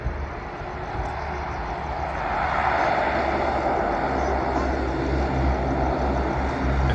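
A jet airliner at Sydney Airport, a continuous broadband engine roar heard from an outdoor viewing mound, swelling gradually louder and holding steady with no talk.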